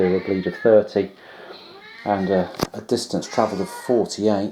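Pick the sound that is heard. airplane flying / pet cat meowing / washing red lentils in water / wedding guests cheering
pet cat meowing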